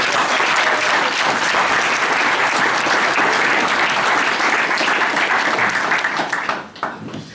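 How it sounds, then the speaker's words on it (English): An audience applauds a tourism figure named Anna at a Mayo tourism event, with steady dense clapping that holds strongly for most of the stretch before thinning and fading near the end. "give her a big round of applause"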